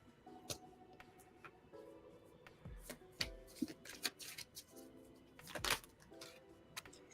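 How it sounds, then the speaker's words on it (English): Tarot cards being shuffled near the microphone, a quiet run of crisp riffles and soft taps with faint clicks between them and no talking. "while you're shuffling"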